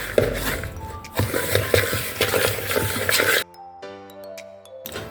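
Granola ingredients being mixed in a bowl, a few seconds of soft scraping and rustling stirs with a clink, under a talking voice, before the mixing stops and a brief tonal melody plays.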